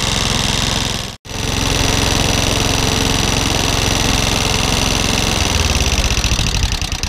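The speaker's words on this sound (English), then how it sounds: "So it runs and idles." A Honda Izy motorcycle engine, unrun for about three months, idles steadily and loudly after warming up, with a brief dropout near the start before the even chugging resumes.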